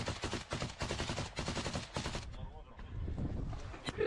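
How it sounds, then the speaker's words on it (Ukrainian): Rapid automatic gunfire from a real battle near Bakhmut, with dense bursts of machine-gun shots crackling loudly and repeatedly during the first half, then continuing more thinly under the rumble of ongoing combat. "Очереди, слышите?"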